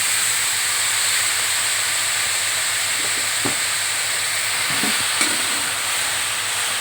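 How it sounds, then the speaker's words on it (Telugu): Green chillies, tomato and coriander fry in a pan for a brinjal roti pachadi, giving a steady, close sizzling hiss with a few soft stirring knocks and no talking. "పచ్చిమిర్చి వేగినాయి ఇప్పుడు టమాటా వేద్దాం ఇవన్నీ కొత్తిమీర కూడా వేసేస్తున్నాను"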